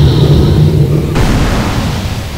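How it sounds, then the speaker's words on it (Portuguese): Fire-jutsu explosions in a modded GTA San Andreas game: a loud, sustained roaring blast that swells abruptly partway through and keeps rumbling steadily, with no talk. "Ah, várias explosões"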